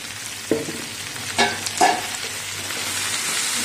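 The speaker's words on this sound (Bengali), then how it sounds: "ভেন্ডিটা তেলের উপরে দিয়ে নেড়ে চেড়ে নিয়েছি" Whole okra sizzling in hot oil over ginger and garlic, a steady close frying hiss with a few brief stirring scrapes and clinks of a spoon in the pan.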